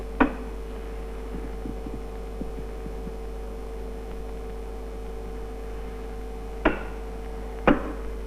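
An induction apparatus with a big coil hums steadily once alternating current is switched on, a low constant electrical drone with a few sharp knocks at the start and near the end.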